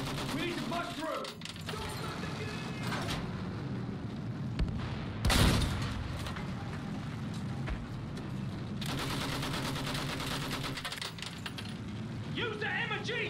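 Machine gun fire in a World War I battle, sustained bursts sweeping over a dense din of explosions, engines and shouting voices.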